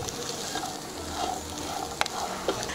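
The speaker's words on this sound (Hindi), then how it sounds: "धनिया पत्ता डालकर अच्छे से मिक्स कर लीजिए" Dry chana being stirred with chopped coriander leaves in a pan with the gas switched off, a soft steady rustle and faint sizzle with a couple of sharp clinks of a spoon against the pan.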